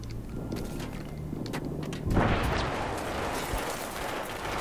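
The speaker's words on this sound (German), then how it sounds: "Jetzt knallt hier schon wieder alles und geht alles hoch." Battlefield 3 combat: muffled distant gunfire pops, then a sudden loud explosion that leaves a dense rumbling roar of blasts and debris, with no talking.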